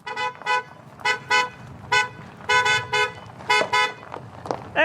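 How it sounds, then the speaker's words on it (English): A car horn honks repeatedly in short, uneven toots, loud and fairly near, about eight blasts in quick succession. "That crazy chicken lady just honks her horn."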